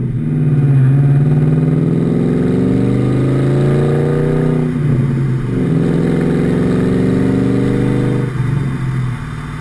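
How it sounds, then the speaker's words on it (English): A 1999 Mustang's Borla stainless steel 2-1/2" S-Type Stinger cat-back exhaust gives a deep, steady rumble as the engine pulls hard, with the pitch climbing and dropping at two gear changes. "again, that deep tone when you first get on it"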